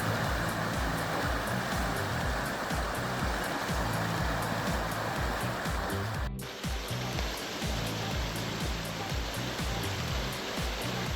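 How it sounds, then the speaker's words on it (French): A pretty river in a moss-covered forest valley in the Ain and Jura region rushes steadily and loudly, a continuous broadband wash of flowing water with no voices. "Très jolie rivière."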